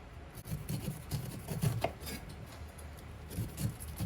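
A thin knife saws through the tough skin of a pineapple in quick, rasping strokes, a close, soft run of gritty cutting sounds with slight bursts of emphasis and no speech.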